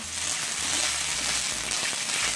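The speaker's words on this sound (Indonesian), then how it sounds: "Langsung kita mau masukkan ini si bawang bombay aja ke dalam sini. Kita tumis sebentar ya." Onion sautéing in a little leftover oil in a pan, a steady close sizzle with faint crackle throughout, alone without talk.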